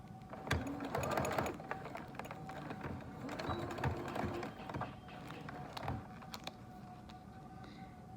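Sewing machine stitching bias tape onto a clear PVC face mask, uneven bursts of rapid mechanical clatter with taps and creaks, quiet and close, pausing between runs.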